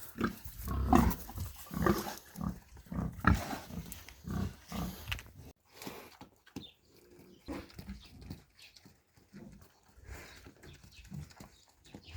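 Piglets grunt and squeal repeatedly while being weighed on a farm scale, with dense, close grunting at first that thins into sparser snorts and shuffling.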